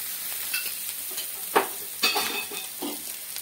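An egg dish fries in oil over a high flame, giving a steady soft sizzle broken by a few scraping stirs from a spatula at close range, with no voices.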